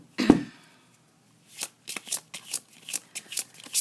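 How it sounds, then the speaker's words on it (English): Oracle cards being shuffled by hand, a sharp riffle near the start followed by a series of soft, rhythmic bursts of cards slapping and sliding together, close and alone. "For now, I'm just going to put it back in and keep mixing up the cards."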